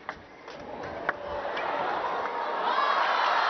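Spectators at a WTT Champions Xinxiang 2023 table tennis match, Kallberg versus Ma Long, cheer and roar in a broad, building wash of crowd noise that swells steadily louder over a few seconds, with one brief sharp shout near the start.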